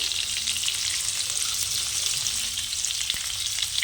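Spices sizzle and fry steadily in hot oil while being stirred for a star fruit chutney, a dense close crackling hiss running throughout without voices.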